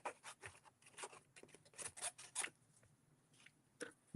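Scissors snipping through a sheet of paper during a paper craft, a quick run of close, crisp cuts followed by a few scattered snips after a pause, with no talking.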